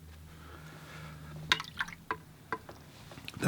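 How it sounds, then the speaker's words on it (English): A paintbrush is rinsed in water during a watercolor painting session, giving a handful of small separate drips and splashes from close by, with a faint low hum beneath and a louder slosh at the end. "Then I can rinse off my brush, tap off some water on the sponge"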